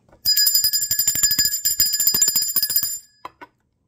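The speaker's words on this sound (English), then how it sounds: "I ring this bell of enlightenment" A bell rings rapidly and repeatedly for about three seconds, a bright, loud metallic trill close by, ending with a couple of separate faint strikes.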